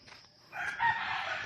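A rooster crows once, fairly close, its call rising and holding against faint background noise.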